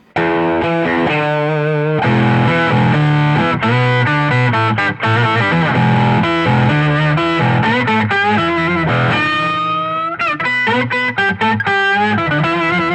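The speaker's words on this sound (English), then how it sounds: "Classic mode is your slightly more aggressive octave sound for single note playing." An electric guitar plays single-note lines through an octave pedal in classic mode, gritty, thick and aggressive, with sustained notes and a few quick runs near the end.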